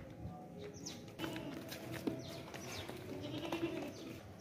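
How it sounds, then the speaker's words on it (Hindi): A heavy, long-eared desi male goat bleats briefly near the middle and again toward the end, over faint outdoor background noise and birdsong. "मोटा वज़नी बकरा है, लंबे कानों वाला देसी बकरा है"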